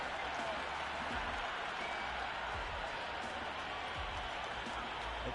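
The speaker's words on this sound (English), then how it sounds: "The crowd are loving every minute of this match." Crowd applause and cheering in the Cricket 26 video game during a T20 World Cup match between India and the Netherlands, a steady, dense wash of clapping filling the whole stretch without letup.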